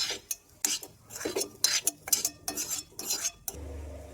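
Cooked okra being scooped out of a kadhai with a metal spoon, a series of close, sharp scraping and clinking strokes against the pan, ending in a low steady hum.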